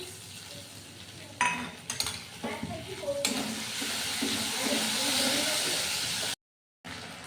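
Water from rinsing a ginger-paste bowl poured into a hot frying pan with green chilies, for a potato and pointed gourd korma, sets off a loud, steady hiss and sizzle, with clinks of a spoon and stirring near the start.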